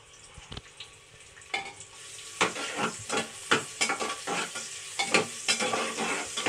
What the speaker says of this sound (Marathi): कांदा टाकून घेते. चांगलं परतून घेते त्याला.